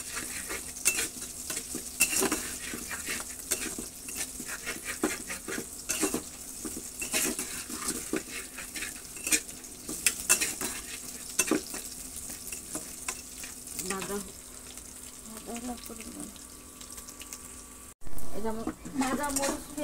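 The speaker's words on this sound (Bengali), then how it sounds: "এখন আমি ডিম দিয়ে দেবো।" Onion and chilli frying in hot oil as eggs go in, a steady sizzle with frequent clinks and scrapes of a utensil against the pan, continuing under occasional talk.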